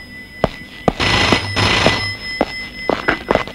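A phone rings in short electronic bursts, interrupted by sharp knocks and clicks nearby.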